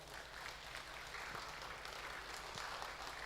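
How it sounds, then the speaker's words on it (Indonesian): Applause from a congregation at a Batak-language Sunday church service, steady and fairly faint, filling the whole moment without breaks. "mari kita sambut dengan tepuk tangan yang meriah"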